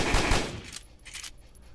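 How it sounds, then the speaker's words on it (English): An opponent's gunfire in the video game CubeZ, a dense loud burst of rapid shots at the start that fades into quieter scattered echoes and distant cracks. "he's taking shots at me."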